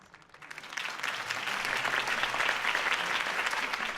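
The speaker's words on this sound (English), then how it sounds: "If only Mr. Wayne, my campaign's largest backer, could have heard that applause" Applause from a crowd follows a campaign speech in the Batman Telltale video game. It swells quickly into a sustained, dense clapping from many people and stays steady to the end, with no speech over it.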